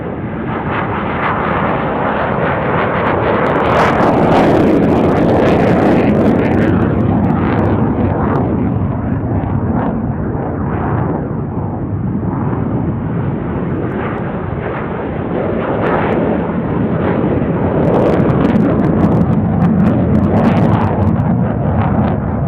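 F-16 fighter jets take off down the runway at Tucson International Airport, a loud continuous roar that swells and stays heavy for over twenty seconds.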